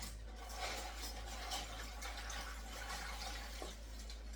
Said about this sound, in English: Add a liter of water.